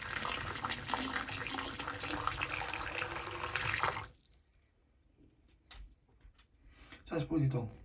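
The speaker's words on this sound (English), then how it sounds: "we're going to put some hot water down" Hot water poured down a drain while testing vinegar as a drain unclogger, a loud steady gushing rush for about four seconds, then stopping abruptly, followed by faint dripping and small splashes before a brief gurgle at the end.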